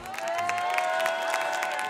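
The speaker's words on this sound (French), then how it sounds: "un tonnerre d'applaudissements" An audience at the Coffee in Good Spirits barista final at Sirha 2019 in France claps and cheers for a finalist, a sustained burst of applause with a tonal background underneath.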